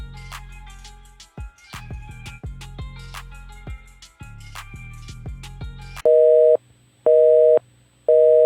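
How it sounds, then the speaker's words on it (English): After a stretch of layered plucked and percussive musical notes, a telephone line for a number not in service gives three loud, evenly spaced steady tones, each about half a second long, separated by silence. "We're sorry, the number you have dialed is not in service at this time."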